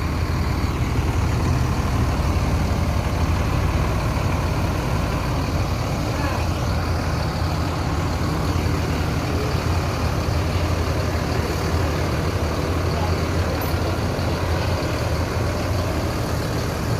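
A Mercedes-Benz engined bus with a Laksana body runs with a steady, loud low rumble that continues unbroken throughout, with voices faintly underneath.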